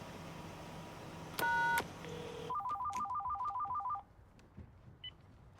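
An electronic telephone ringer sounds alone in a quiet room, a short burst of tones followed by a rapid warbling trill repeating for about a second and a half, then a couple of faint beeps.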